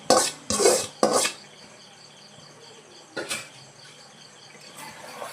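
Chicken is tipped into a pan for pepper chicken curry and stirred, with sharp metallic scrapes and clanks of a spoon against the pan in several bursts near the start and again midway, over a soft background hiss.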